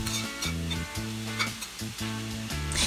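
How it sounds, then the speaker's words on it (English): Fresh seasoning and vegetables sauté in butter in a pot for a steamed fish and okra dish, producing a continuous crackling sizzle beneath prominent background music. "Add all the fresh seasoning and veg and sauté that for a few minutes."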